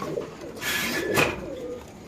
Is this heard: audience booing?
no